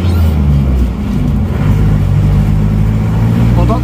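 A repaired Isuzu Panther's diesel engine runs loud and close, giving a heavy, continuous rumble that swells as it accelerates, with brief talk over it.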